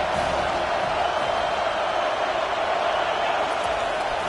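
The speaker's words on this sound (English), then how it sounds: "This crowd bringing the energy and noise early." A College Football 25 video game stadium crowd roars in a steady, dense wash of cheering and noise, continuous and fairly loud throughout with no break.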